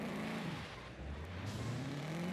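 Engine of a 6-speed manual car driven in a racing video game, a steady droning hum with the pitch rising and falling gently as the throttle shifts, continuous and fairly quiet throughout.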